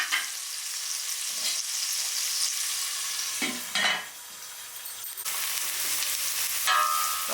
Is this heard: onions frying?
yes